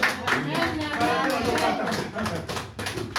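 A church congregation at a Sunday worship service applauding, with continuous clapping blended under loud voices and singing throughout.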